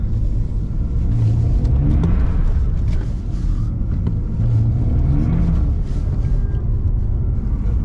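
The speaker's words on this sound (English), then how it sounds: "We will try to drift the car." A BMW Z4 engine revs and roars steadily up close while drifting, with low rumbling and surging tones as the car is pushed hard.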